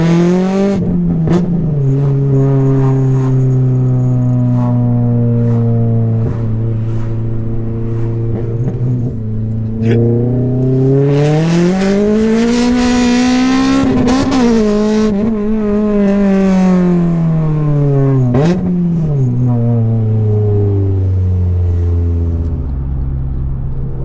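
A Honda Civic FN2 Type R with a swapped K24 engine pulls loud and close, holding a steady drone, then revs up through a rising sweep near the midpoint and rises again with quick blips toward the end.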